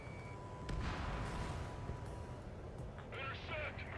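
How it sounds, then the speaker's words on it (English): Missile launch in the jet combat video game Ace Combat 7: Skies Unknown, a deep rumbling roar with a whoosh that swells and fades over a few seconds beneath game chatter and radio voices. "Missile launched."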